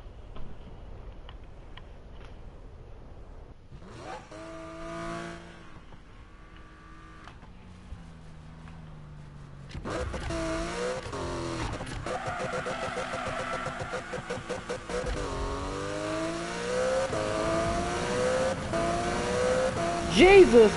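A sports car in a Need for Speed video game, an RWB, revs hard while it drifts. Engine whine rises and falls over sustained tire squeal, loud and continuous through the second half.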